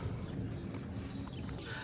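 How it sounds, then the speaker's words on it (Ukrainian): Birdsong near a sanatorium in sunny Zakarpattia, a few faint chirps and whistles over a steady outdoor hum. "Пташки співають."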